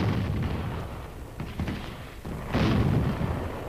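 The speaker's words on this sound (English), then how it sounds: "And so, a howitzer lets one go." A howitzer fires during the Korean War, producing loud, booming broadband blasts over a constant rumbling background, with a heavier report about two-thirds of the way through.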